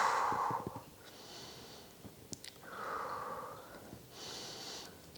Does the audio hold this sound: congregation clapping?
no